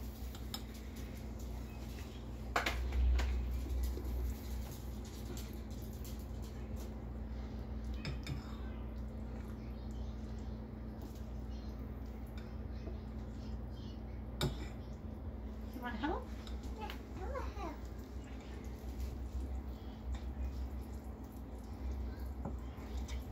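Corn bread mix being stirred in a bowl with a spoon, giving soft, scattered clinks and scrapes against the bowl over a steady low room hum, with a few louder knocks along the way.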